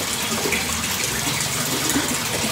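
Gurgling, splashing water in a minimalist koi pond runs as a steady, continuous trickle with no breaks, close and fairly loud with no voices.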